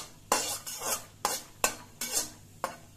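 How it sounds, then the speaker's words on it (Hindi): Peanuts being dry-roasted and stirred in a pan for curry leaf chutney, heard as six distinct scraping strokes spaced at a steady rhythm, close and fairly quiet, with no talking. "इसी तरह से मूंगफली को हमें भून लेना है"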